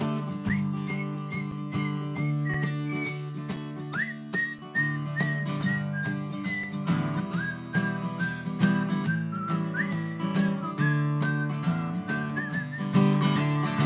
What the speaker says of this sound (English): See if you can whistle with me.